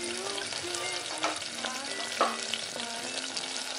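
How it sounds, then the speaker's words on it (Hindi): Potatoes and green peas fry in a pan with very little oil, a steady close sizzle broken by a few louder scraping stirs. "आलू को डाल के हम इसे अच्छे से इसे मटर के साथ जो है भून लेंगे"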